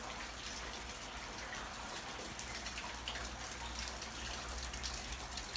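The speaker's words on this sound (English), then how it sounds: "Alright, so after that good little hail, I just heard some thunder." Hail pattering steadily outdoors during a storm, a dense continuous rattle of small icy hits with a low rumbling background, no talking.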